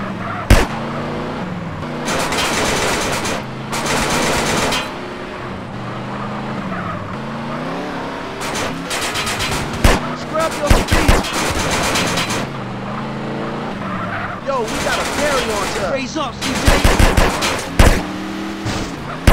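Drive-by shooting in GTA San Andreas from a modded BMW M5 E34: loud bursts of rapid gunfire break out repeatedly over a steady, droning car engine, with quieter stretches of engine between volleys.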